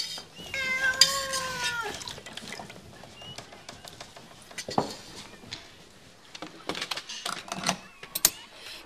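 A cat meows close by, a drawn-out rising and falling cry, in a Danish family Christmas-calendar show, followed by scattered light clatter and taps.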